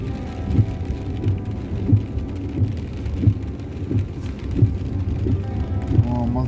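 Heavy rain falling in Jerusalem, a dense steady patter with soft thumps recurring at a regular pace throughout.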